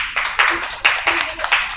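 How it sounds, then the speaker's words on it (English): A few people clap to welcome a debate team, sparse uneven claps in short bursts rather than a full crowd, fairly close and distinct. "Can we have a round of applause to welcome them"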